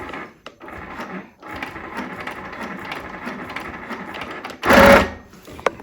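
A sewing machine stitches through a quilt, a close, rapid mechanical whir running in bursts with short pauses and a louder surge near the end.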